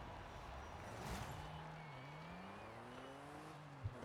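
A 2003 Volkswagen Golf R32, a Mark IV hot hatch with a throaty VR6 engine, is being driven. A steady engine note rises and falls in pitch through the gears, heard from inside or near the car, with no talking.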